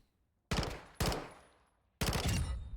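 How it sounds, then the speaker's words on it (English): P90 submachine gun in a Call of Duty match firing three short bursts of rapid, loud, punchy shots, each separated by brief pauses and trailing off in echo. "we're going to have to burst fire a little bit because the P90 has a lot of recoil"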